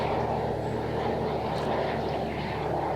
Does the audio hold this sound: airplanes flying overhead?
yes